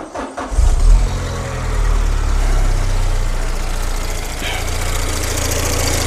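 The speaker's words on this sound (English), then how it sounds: "Basically, the exhaust is leaking down here" A car engine idling with a leaking exhaust, a steady low rumble with a rough, puffing edge after a brief startup bump, close and fairly loud throughout, with no talk over it.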